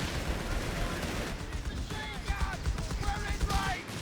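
Company of Heroes 3 battle gunfire, with Australian troops cut down by a Flak Panzer, forms a dense, continuous rattle of shots and impacts at moderate distance, with faint chirping tones over it.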